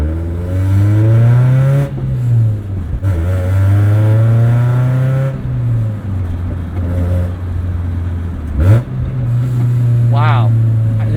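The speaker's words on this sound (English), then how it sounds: "it rumbles out the back like an old muscle car" A 1996 Acura Integra budget endurance race car drones with a loud, deep engine and exhaust rumble, rising and falling through several gear changes with brief lifts between pulls.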